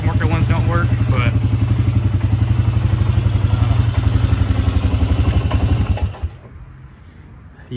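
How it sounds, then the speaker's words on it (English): An air-cooled engine runs close by with a rapid, throbbing idle and a couple of revs, loud and steady, then it cuts out abruptly near the end and leaves quiet. "she runs pretty good and revs out pretty good"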